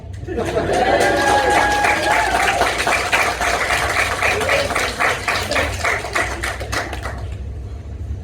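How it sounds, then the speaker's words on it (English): An audience at an Everglades alligator wrestling demonstration breaks into scattered clapping that swells and then tapers off over several seconds, with an engine droning faintly underneath and voices talking. "That clapping did not feel forced at all."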